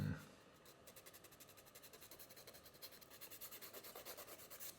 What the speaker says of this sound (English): And this isn't how I normally file my nails